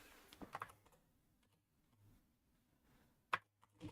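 A computer keyboard is typed on in short, quick bursts of clicks separated by pauses, close and fairly quiet during live day trading.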